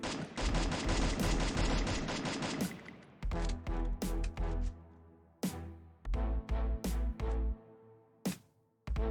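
Gunfire from the video game Free Fire, using the drag fire technique: a dense rapid burst of automatic shots, then a series of short separated bursts, loud and close with no talking.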